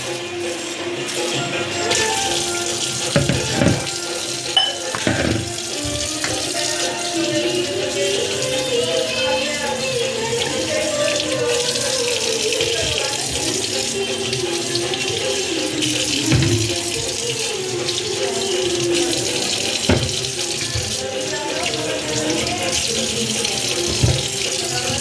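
Tap water runs steadily into a sink while a basket and potatoes are washed, a continuous splashing rush with occasional knocks and clatters of handling.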